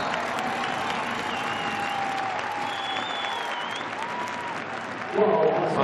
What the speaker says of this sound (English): Oh, the crowd appreciate that one.